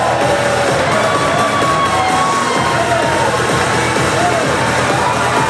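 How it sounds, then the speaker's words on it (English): A ballpark crowd cheering before the bottom of the ninth inning, a dense, continuous roar of voices with shouts and whoops throughout. "just listen to this crowd"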